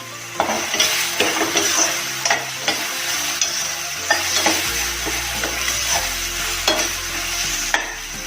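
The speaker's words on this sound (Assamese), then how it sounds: "এতিয়া দিলোঁ নহৰু, আদা, জলকীয়া পেষ্টখিনি" Garlic, ginger and chili paste frying on high flame for an Assamese mutton curry, a steady sizzle with repeated stirring scrapes and clinks of a spoon against the pan, close and fairly loud with no talk.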